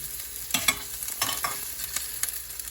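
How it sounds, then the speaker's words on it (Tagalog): Onion and garlic sauté in a hot pan, with a soft sizzle underneath and several sharp bursts of stirring and scraping from a utensil against the pan, close and alone. "Ayan guys, gisang-gisa na ang sibuyas at bawang."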